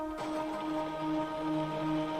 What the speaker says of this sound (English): You can hear the water heating up.